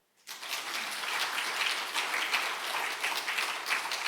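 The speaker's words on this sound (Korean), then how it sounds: "박수 한번 쳐줘봐요" A church congregation claps together during a Wednesday worship service, the applause rising suddenly after a short silence and holding as a steady, moderately distant patter of many hands.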